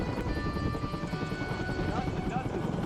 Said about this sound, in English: Next, the chopper takes off.